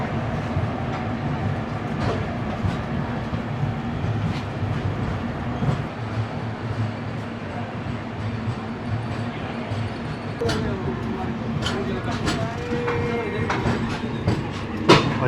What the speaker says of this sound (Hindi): पूरा ट्रेन जो है वो तो क्रॉस हो गया और ट्रेन जो रुकी नहीं